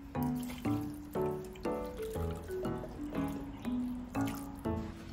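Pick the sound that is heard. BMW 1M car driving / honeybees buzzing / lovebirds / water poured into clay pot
water poured into clay pot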